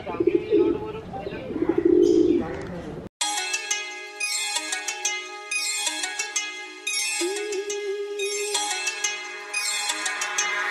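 A white pigeon in Gorai gives repeated bright calls and coos over several seconds, fairly close, after someone talks at the start.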